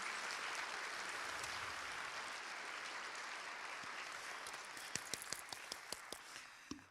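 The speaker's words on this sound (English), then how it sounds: "Can we just give all of our participants today another warm round of applause?" A steady, distant wash of audience applause for program participants at an MLK Day of Activism and Service event, thinning at the end into a handful of separate claps before stopping.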